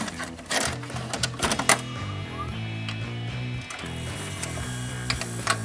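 A 1985 VCR loads a head cleaner cassette with a left sprocket out of alignment, giving a busy mechanical whirring and rapid clattering broken by sharp clicks and knocks. It sits close and fairly loud, with no talking.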